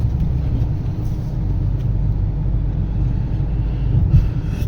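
A Mahindra Thar cruises along the STRR highway at night, its cabin filled with a steady, dense rumble of road and engine noise that holds even throughout.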